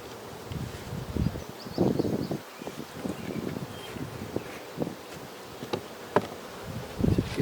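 Honey bees buzz steadily close by as hive frames are handled, with soft rustling and handling bumps scattered throughout.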